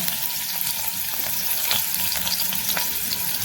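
Chopped small onions fry in groundnut oil in a pan, a steady crackling sizzle with occasional sharper pops and faint stirring scrapes, close and continuous without any voices.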